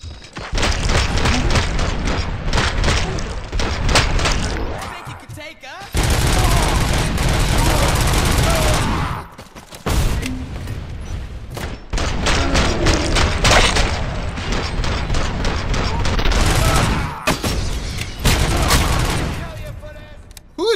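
Sustained heavy gunfire in Robocop: Rogue City, dense bursts of shots and booms in long loud stretches broken by short pauses, with a voice talking at times.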